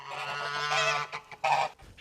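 A male Toulouse goose gives loud, nasal honks nearby: one long drawn-out call and then a shorter honk after a brief pause, with no other sounds heard.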